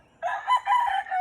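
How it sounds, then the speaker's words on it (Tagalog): Rooster crowing in a small backyard flock of chickens, a single loud, close crow lasting about a second. "So dati konti lang yung manok natin."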